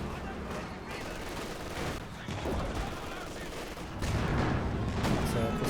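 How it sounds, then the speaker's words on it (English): MG42 machine-gun fire and other battle noise in Company of Heroes 2, dense continuous crackling bursts that swell louder toward the end, with a commentator talking over it. "Manages to get around the arc of fire from the MG42."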